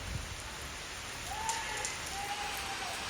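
Steady rain falls over farm fields in Punjab, a constant soft hiss with a brief faint whistle-like tone passing midway, no voices.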